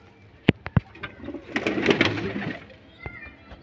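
Short-sized domestic Madras pigeons coo nearby in a low, rolling burst, preceded by a few sharp clicks and taps, with faint background noise.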